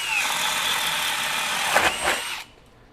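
A Bosch GSB18V-1330C cordless hammer drill bores with a 1.5 inch bit, a loud, steady high whine and grinding that surges briefly as the bit pushes through, then cuts off abruptly.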